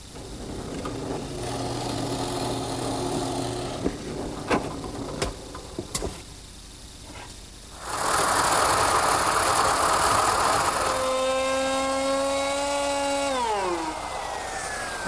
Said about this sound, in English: Now here I'm using a 3/4 inch radius router bit to ease the front of the seat.